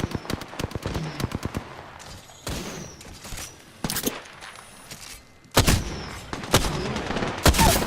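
Gunfire in a video game firefight: loud bursts of automatic fire and single shots, some close and some farther off, in ragged runs with short pauses and a heavier blast near the end.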